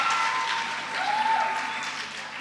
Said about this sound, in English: Please, a round of applause once again for these amazing people.